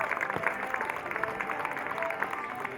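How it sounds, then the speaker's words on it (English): A crowd applauds the 2013 Elaine Watson Cup champions after the football cup final between The Gap and Redlands United, a moderate patter of clapping with quick uneven bursts that carries on throughout. "a final applause for the winner, 2013 Elaine Watson Cup champions"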